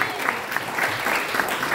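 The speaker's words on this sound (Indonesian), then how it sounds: "Tepuk tangan buat Tuhan Yesus" A congregation at a church service in Indonesia applauds, dense sustained clapping with a few louder cheers or shouts rising above it.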